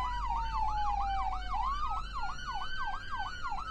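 An ambulance siren in the Flashing Lights emergency-services video game wails in a fast, regular yelp cycle, loud and close, with a steady tone sliding beneath it and a low engine hum.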